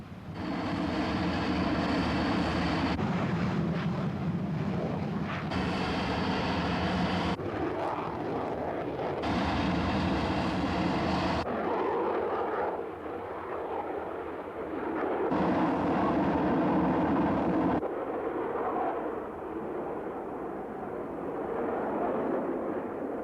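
An RAF Jaguar jet taking off, a loud sustained engine roar with shifting surges in pitch and intensity, rumbling continuously and alone.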